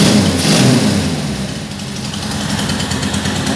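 A Riva 600 engine idles while misfiring, running on only its second and third cylinders, giving a loud, close, uneven rumble that stays steady throughout with no voices.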